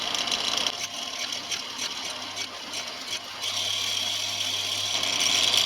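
A 1.5mm drill bit bores through half-inch thick steel, giving a steady whirring drone with a high-pitched bite that grows slightly louder toward the end, close and continuous with no talk.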